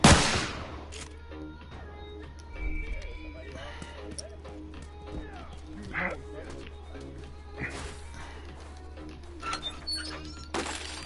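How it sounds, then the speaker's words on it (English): A burst of gunfire in The Last of Us multiplayer video game, with sharp shots and scattered impacts amid steady game background noise, starting loud then recurring at moderate distance. "Somebody was over there just standing there shooting a burst"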